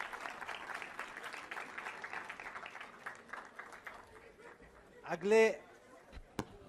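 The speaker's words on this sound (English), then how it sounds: "huge round of applause for this new innovation, Sancheti AI" An audience at a foundation-day event applauds the launch of an AI app, steady clapping with a few chuckles, fading out before a brief loud burst of sound and a sharp tap near the end.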